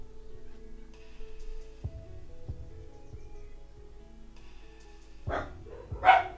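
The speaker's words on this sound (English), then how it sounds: "the dogs are barking." Dogs bark a few times near the end, two or three sharp, moderately loud yelps over a quiet indoor room with faint background hum.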